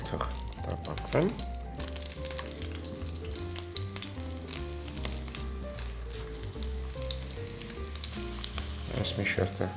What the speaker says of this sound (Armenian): Մնացածն էլ թող տապակվեն։